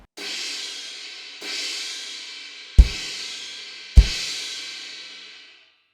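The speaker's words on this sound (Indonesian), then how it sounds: "Dry crash, bunyinya kayak gini." A 20-inch Kingdo Seri Collection dry crash cymbal is struck four times at an even pace, each hit ringing briefly before fading. The last two strikes come with a low thump.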